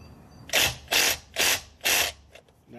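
A cordless impact wrench snugs down the differential fill plug on a 2013–2014 Hyundai Santa Fe, four short, sharp hammering bursts in a steady rhythm, close and loud against a quiet garage.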